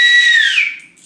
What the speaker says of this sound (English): It's a dog whistle.